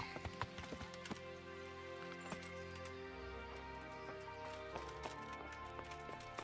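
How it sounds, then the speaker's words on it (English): Horse hooves clip-clopping at a riding pace in Kingdom Come: Deliverance, steady rhythmic hoofbeats with an occasional neigh, heard alone at moderate loudness. "it wouldn't be an RPG if there wasn't some kind of, like, janked horse riding"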